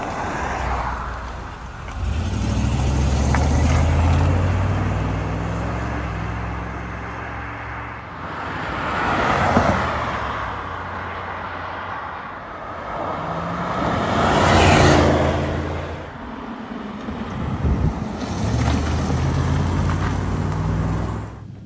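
A 1996 Bentley Continental R passes by outdoors several times, each pass rising to a loud engine roar and tire hiss, then fading away into quiet between flybys.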